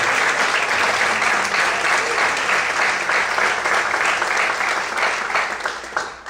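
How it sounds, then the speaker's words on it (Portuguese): Church congregation applauding during an evening service, a loud, dense and continuous burst of clapping that holds steady and then tapers off at the end. "Desocupe a sua mão e aplaude o Senhor nessa noite."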